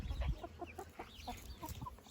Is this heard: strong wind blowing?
no